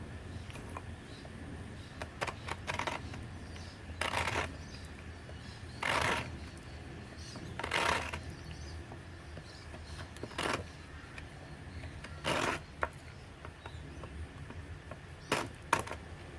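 A sharp Laplander folding saw cutting a piece from a length of wood, with separate rasping strokes spaced a couple of seconds apart, fairly faint over a quiet outdoor background and with no talking.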